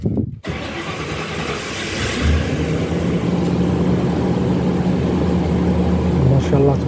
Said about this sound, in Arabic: بارك الله حتى صوت السيارة